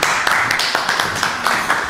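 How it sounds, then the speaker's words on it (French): An audience claps steadily for a participant at a French street-style game show, dense and fairly close, filling the two seconds with little else heard. "On peut l'applaudir."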